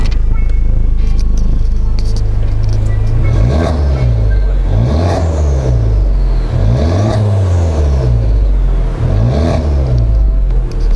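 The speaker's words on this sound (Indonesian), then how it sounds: "Saya pengen rasain suara geberannya dari sebuah Civic Type R di mode R juga." A Honda Civic Type R with an HKS exhaust, in R mode outside an office area, is revved hard four times in a row. Each loud rise and drop comes close up over a steady engine note.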